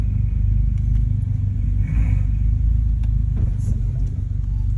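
Cars driving hard near the Nürburgring Nordschleife, past a village of small detached houses. A loud, steady low engine rumble and road drone fills the whole stretch, with faint voices underneath.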